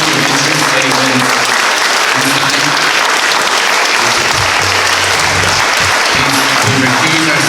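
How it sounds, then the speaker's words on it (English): Audience members at a town council meeting clap loudly and continuously in a crowded chamber, the dense applause persisting throughout while a voice speaks over it. "Keep clapping."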